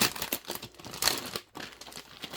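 A small plastic bag holding a makeup brush set crinkles and rustles up close in irregular bursts, with brief pauses between the crackly handling sounds.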